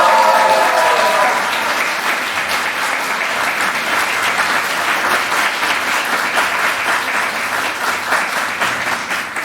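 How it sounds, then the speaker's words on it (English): Fervent audience applause at a graduation ceremony for an advanced master's program in European and international business, dense and sustained clapping that stays loud throughout with a brief tonal trace at the start. "Because of the fervent clapping"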